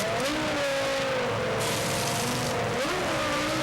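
A Formula 1 car at the 2001 Brazilian Grand Prix sits in its pit stop, its engine held at steady high revs with a brief dip and recovery, loud and close amid broadband noise.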